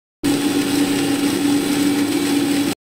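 A loud, steady mixer grinder whir runs at an even pitch for a couple of seconds, starting and stopping abruptly, blending chutney ingredients with salt and a little water.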